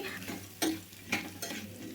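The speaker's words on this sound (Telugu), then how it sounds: "ఇట్లా మొత్తాన్ని ఒకసారి కలుపుకొని చల్లారిన తర్వాత అయితే మిక్సీకి అయితే వేసుకోవాలి" A spoon stirs a bitter gourd and onion mixture in a pan, giving a few distinct scraping strokes over a soft, steady sizzle, with no talking.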